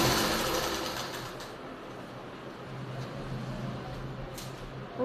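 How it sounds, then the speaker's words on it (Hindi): A sewing machine stitching trouser fabric, a steady close whirring hum running for about five seconds with no talk. "पूरे राउंड में हम ऐसे ही सिलाई को लगा लेंगे।"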